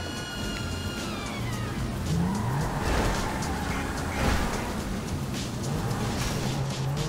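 Cars in GTA V maneuvering on a driveway, a steady engine drone with shifting revs and a few dull impacts as vehicles bump into each other, no talking.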